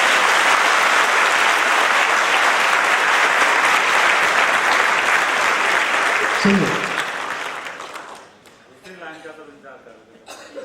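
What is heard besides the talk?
audience applause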